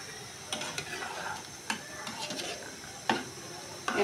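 A pan of curry with bitter gourd, potato and fish, with a little broth added, simmers in a steady, close sizzle broken by a few sharp clicks and clinks.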